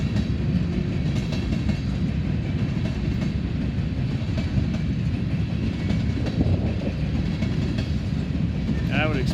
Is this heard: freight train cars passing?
yes